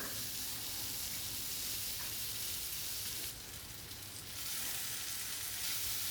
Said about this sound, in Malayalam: വെളിച്ചെണ്ണ ഒഴിക്കാം ഇനിയിപ്പോൾ അതൊക്കെ ചൂടായി വന്ന ശേഷം നമുക്ക് ഉള്ളി പച്ചമുളക് അത് വഴറ്റാം